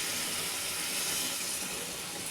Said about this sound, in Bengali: গরম জল দিচ্ছি